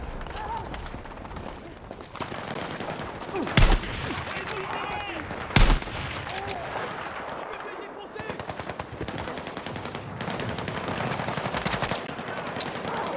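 Battlefield 6 campaign combat: rapid bursts of machine-gun and rifle fire crackle continuously, with two heavier blasts standing out early on, under occasional voices.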